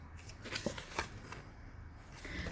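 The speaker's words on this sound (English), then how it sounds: "Let me see how they shuffle," A deck of thick-cardstock Celtic oracle cards is shuffled up close, giving a quick run of riffling, flicking card sounds with no voices.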